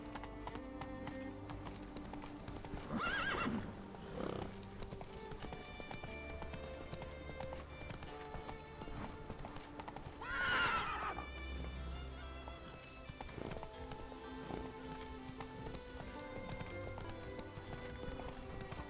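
The horse Roach in The Witcher 3 gallops with a steady rhythmic clip-clop of hooves throughout, breaking into two loud whinnying neighs, one early and one midway, heard up close.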